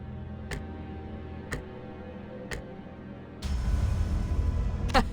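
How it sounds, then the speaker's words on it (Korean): A clock-headed figure in the video game Limbus Company ticks in sharp, evenly spaced clicks about once a second, then a louder rumbling layer of game sound swells underneath and partly covers the ticks. "째깍거리는 소리만 들리네."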